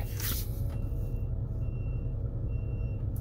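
A truck's reversing alarm beeps steadily outdoors, repeating over a loud, constant rumble of engine and traffic noise.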